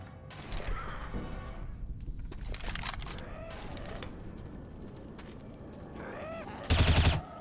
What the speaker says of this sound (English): Full auto shotgun.